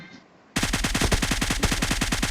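Rapid automatic gunfire in the mobile battle-royale game PUBG Mobile, a loud sustained burst of evenly spaced shots starting abruptly after a short quiet lead-in.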